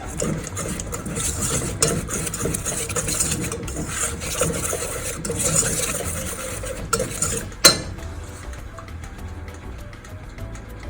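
Sponge cake batter being mixed in a bowl, continuous scraping and clinking of a utensil against the bowl with rhythmic stirring strokes, heard close and alone, ending with a sharp knock before quieter stirring.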